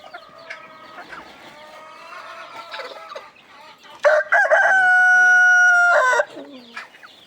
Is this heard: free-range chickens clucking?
yes